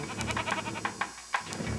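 Goats bleating in a rapid, overlapping series of nasal calls, several animals close by, with a couple of louder sharp bleats standing out against constant background noise.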